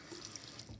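Water streams steadily from a faucet in a house for lease in Grayhawk, North Scottsdale, giving a faint, continuous hiss over a very short stretch.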